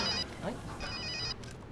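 A telephone rings in short electronic bursts, two trills separated by a brief pause, moderately faint and close, with a voice speaking faintly between them.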